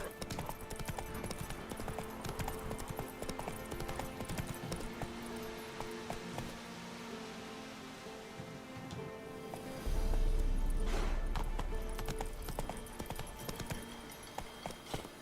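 Hooves pound in a quick, rhythmic clip-clop as Geralt's horse gallops in the video game The Witcher 3, with game music beneath and a low rumble swelling near the end.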